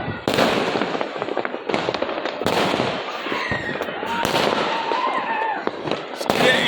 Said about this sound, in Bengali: সব দিকেই বাজি।